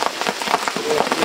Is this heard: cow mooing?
no